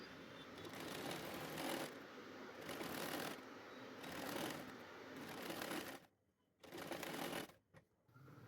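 A sewing machine running in long steady bursts as it stitches fabric for a Punjabi kachhera undergarment, with short pauses between runs and two brief stops near the end.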